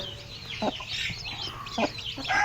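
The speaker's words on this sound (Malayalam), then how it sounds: "കുറേ കോഴികളുണ്ട്" Native black-and-white chickens cluck in short, repeated bursts close by, several birds at once over a steady farmyard hum.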